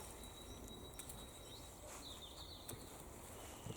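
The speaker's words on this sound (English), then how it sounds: "So the bird song is really loud and clear." Birds sing faintly and thinly on a still, windless day in a kitchen garden, with occasional distant chirps and insect-like trills over a soft outdoor hush.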